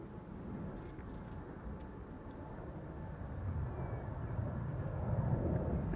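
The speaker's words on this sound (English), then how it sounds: "I think I can already hear the engines spool up." A steady low roar of jet airliner engines spooling up at Amsterdam Schiphol that grows gradually louder, a broad rumbling drone building toward the end with no voices.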